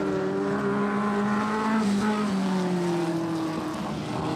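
Vintage speedcars race on the final lap of a speedway event, their engines a steady droning whine from middle distance, the pitch sliding gradually lower as they pass, with faint crowd noise underneath.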